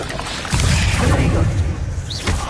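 A fire spell cast in Hogwarts Legacy, heard as a sudden whooshing burst that swells into a sustained, roaring flame for about two seconds, with a softer flare near the end.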